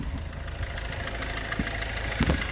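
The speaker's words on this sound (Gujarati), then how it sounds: "ચાલો તમને ગાડીનો અવાજ સંભળાવી દઉં." A 2012 Maruti Suzuki Swift diesel car engine idles steadily with a low, even rumble and faint knocking, close up, with no voices.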